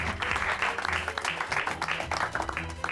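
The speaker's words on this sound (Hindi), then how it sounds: "बजाओ ताली।" A burst of applause from a small group, clapping fast and irregular, close by and fairly loud.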